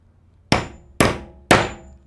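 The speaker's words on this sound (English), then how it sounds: "put our snap setter on top of the snaps and use our hammer to pound it" Three evenly spaced, sharp metal strikes as a hammer pounds a snap setter down onto snaps for a wristband, each crack ringing briefly before fading, close and alone.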